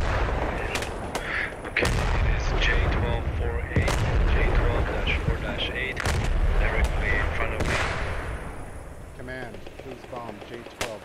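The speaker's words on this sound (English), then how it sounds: "There's the arty." Artillery barrage in the World War II shooter game Post Scriptum: heavy booming impacts and blasts rolling in one after another, loud and continuous, with voices talking over the shelling.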